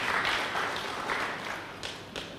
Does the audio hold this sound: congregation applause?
yes